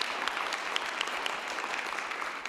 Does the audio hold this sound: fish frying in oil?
no